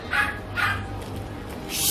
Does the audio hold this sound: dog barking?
yes